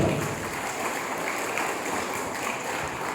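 Listeners at a college talk break into a continuous wash of applause that holds an even, dense level from start to finish, with no distinct voices above it.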